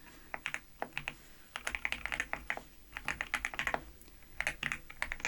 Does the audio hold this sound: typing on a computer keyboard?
yes